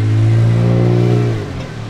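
A car engine hums loudly close by as it rolls through a parking lot, a steady low drone that eases off and fades slightly toward the end, with no talking.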